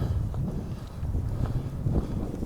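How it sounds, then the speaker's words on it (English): Wind buffets the microphone at the top of the Grand Canyon, a low, steady rumble with slight gusts and no voices. "Feels windy."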